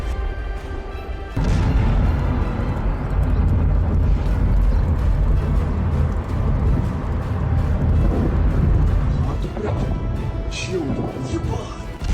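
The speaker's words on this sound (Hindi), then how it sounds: "पुतिन के फौज की तोपें लगातार यूक्रेन पर बम गोलों की बरसात कर रही हैं" Russian artillery shelling in Ukraine: a loud, sustained heavy rumble of blasts and crashing roar that kicks in after a quiet start and barely lets up, with sharper bursts near the end.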